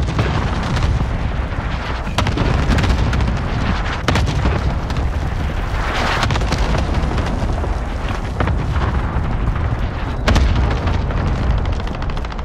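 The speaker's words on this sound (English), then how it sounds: "Cluster strike away." Cluster strike explosions in the video game Call of Duty: Modern Warfare, a continuous barrage of heavy booms and sharp blasts that rumbles on without pause, loud and dense throughout.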